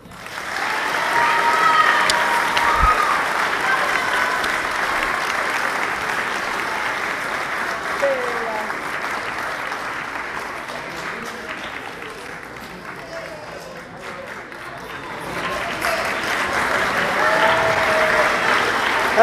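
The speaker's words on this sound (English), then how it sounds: "Please hold your applause for Nicholas Nicky Penn and Bella Fergato." An audience at a sixth-grade academic awards ceremony in a school applauds in a long, continuous wash of clapping that swells early, eases slightly midway and rises again near the end, with faint crowd murmur beneath.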